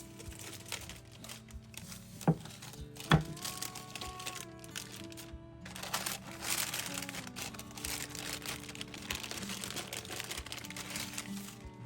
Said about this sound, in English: The parchment paper is just obnoxious to hear.